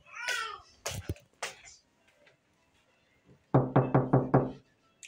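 Knocking on a house door: a few scattered raps at first, then after a pause a quick burst of five firm knocks in a row, close and distinct in a quiet room.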